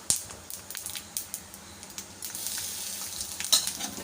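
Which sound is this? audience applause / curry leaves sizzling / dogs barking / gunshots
curry leaves sizzling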